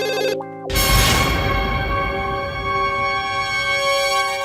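A phone ringtone rings steadily and loudly on its own in a Hindi TV comedy scene from Taarak Mehta Ka Ooltah Chashmah, carrying on without a break and with no talk over it.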